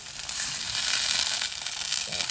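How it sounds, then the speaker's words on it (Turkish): Eggplant halves fry cut-side down in oil in a pan, giving a steady, close, loud sizzle with dense crackle that holds evenly throughout, with no talk over it. "Sonra iç yüzlerini kızartıyorum şöyle iyice bu durumda"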